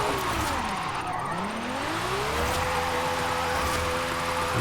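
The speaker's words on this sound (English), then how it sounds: "This is a Lamborghini car made for drag racing" A 1999 Lamborghini Diablo GTR drifting in the racing game Forza Horizon 5 sends out a loud, continuous engine roar whose pitch dips and then climbs as it slides and accelerates.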